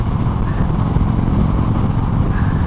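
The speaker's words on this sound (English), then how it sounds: "I don't know why this bike is so great on the highway" A motorcycle cruising at highway speed, its engine a loud, steady drone mixed with heavy wind rush, close and continuous without any break.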